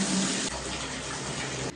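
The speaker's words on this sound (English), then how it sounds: "So I have this really cool shower that turns into a washing machine" Water runs steadily from a shower used to wash laundry in a home on Isla Holbox, México. The stream is loud and close, a constant hiss with a slight change in flow partway through and no talking.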